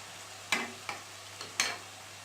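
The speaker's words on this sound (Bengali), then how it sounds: "খুব সুন্দরভাবে আমরা নাড়িয়ে দিচ্ছি আলু উচ্ছেগুলোকে যাতে ভালো করে ভাজা হয়" Potato and bitter gourd fry softly in a pan while a utensil scrapes and stirs them in four quick, irregular strokes.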